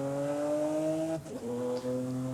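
Lamborghini SVJ in Forza Horizon 5 with a first-gear engine fault and exhaust trouble, a steady droning engine note that cuts out abruptly midway, then resumes at a lower pitch after a brief rough stutter.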